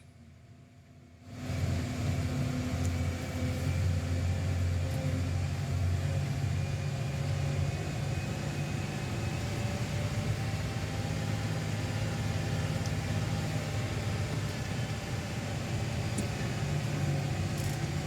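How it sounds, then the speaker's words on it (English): Rock truck engine running on a road-building site, with a steady, loud, low diesel drone. It starts after a short quiet moment and holds an even rumble without a break. "There's 3 of us today running a rock truck."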